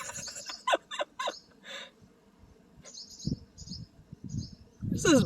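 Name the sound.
bird dive-bombing a cat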